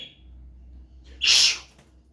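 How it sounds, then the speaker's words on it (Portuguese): A parakeet lets out a single short, sharp screech, a high burst of about a third of a second standing out from a quiet background. "Tá aqui, ó, periquito gritando."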